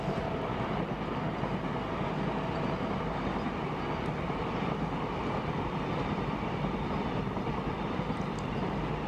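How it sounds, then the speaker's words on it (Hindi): Electric freight locomotive train passing on a dedicated freight corridor, a steady broad rumble and rail roar at constant level throughout, fairly distant and unbroken. "ये फ्रीट में सबसे ज़्यादा इस्तेमाल होने वाला लोकोमोटिव है इलेक्ट्रिक कैटेगरी में।"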